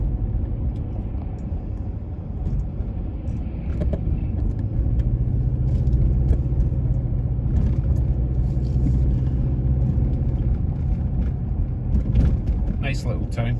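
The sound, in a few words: car driving through Ancaster and Dundas, Ontario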